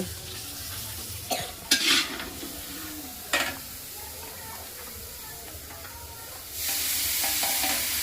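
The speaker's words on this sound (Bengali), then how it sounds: "আর এদিকটা মাছ রান্না করা হচ্ছে" Fish cooking in a pan on a gas stove, a steady background sizzle broken by a few sharp clanks of utensils against the pan, with the frying rising louder near the end.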